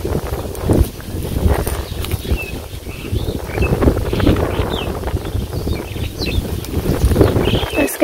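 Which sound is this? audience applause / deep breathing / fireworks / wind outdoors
wind outdoors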